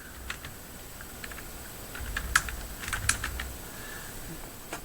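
Quick bursts of computer keyboard keystrokes, entering a search for a Magic the Gathering product while loading new inventory for a game store. The clicks come in short irregular clusters at close range, with no speech.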